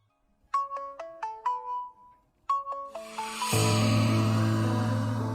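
A mobile phone ringtone plays a bright descending melody twice, then louder sustained electronic tones swell in, nearby with no talking.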